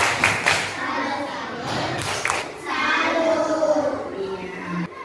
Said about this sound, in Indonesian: Kita beri tepuk salut dulu untuk kelompok cerdas